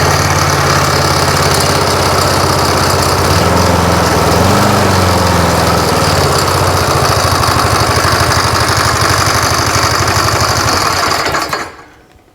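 A 1984 Briggs and Stratton engine on a Masport lawn mower runs loud and close with a steady buzzing drone and a brief wavering in pitch midway, then shuts off abruptly near the end.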